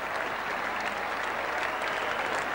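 A capacity crowd at a Test match cricket ground, The Oval, applauding a catch with steady, dense clapping that holds even and full throughout, with no voices over it.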